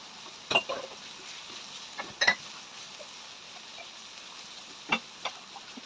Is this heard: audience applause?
no